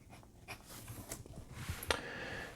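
A Penbbs 323 aluminum fountain pen with a medium steel nib scratches faintly across paper in short, soft strokes, close and quiet.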